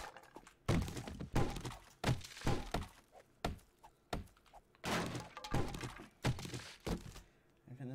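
Objects being smashed apart in the 7 Days to Die video game, a series of loud, close, heavy thunks and cracking breaks in irregular bursts, one after another.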